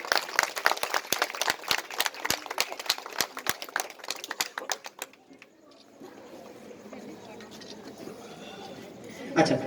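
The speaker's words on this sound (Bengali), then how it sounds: "হাততালি হয়ে যাক" Audience applause at the opening ceremony of a new course, a burst of sharp close hand claps for about five seconds that gives way to softer crowd chatter and rustling.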